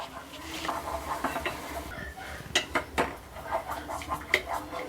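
A spoon stirring and scraping an oats face pack mixture in a metal pan, irregular clinks and scrapes with a few sharper knocks, close and fairly clear, no talk.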